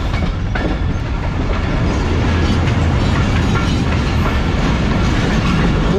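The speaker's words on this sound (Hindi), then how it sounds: "एंट्री हो गई है ट्रेन की, जो कि बेसिकली आरजी के साथ आ रही है।" A train passing alongside at Hyderabad Junction on the Rehman Baba Express route, a loud, steady rumble of wheels on rails with faint rhythmic clatter, close and continuous throughout.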